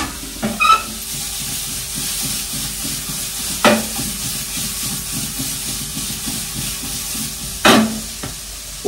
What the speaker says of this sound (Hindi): ओवर कुक नहीं करना है, बस हल्का सा सौते करना है।